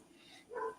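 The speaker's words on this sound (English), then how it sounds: "Sorry about the dog." One brief, faint dog bark or yip from a short distance, heard alone.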